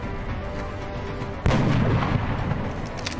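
A sniper rifle fires in the video game XCOM: Enemy Within, a single sharp boom midway that cuts through a steady low rumble of game ambience and then rings out into a lingering tail.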